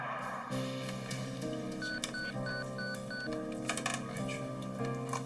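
Telephone keypad tones as a number is dialed: a series of short, evenly spaced beeps over a music-backed soundtrack.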